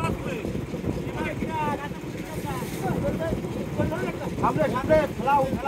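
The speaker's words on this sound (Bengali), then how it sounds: "এদিকে আরো একটা ট্রলার আমাদের গায়ে চলে এসেছে" A fishing trawler drawing up alongside another at sea in the Bay of Bengal, a steady rumble of engine and water with wind buffeting the microphone, while people talk and call out throughout.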